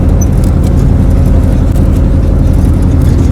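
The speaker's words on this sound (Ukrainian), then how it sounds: "Їдемо зі змагань на тракторі." A tractor drives along a rough country road on the way back from a carp-fishing competition, its engine giving a loud, continuous droning hum that holds steady throughout, with no talk.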